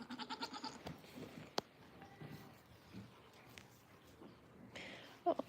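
A goat bleats several times in quick succession on a goat farm, moderately close but fairly faint, amid light background noise and a few scattered knocks.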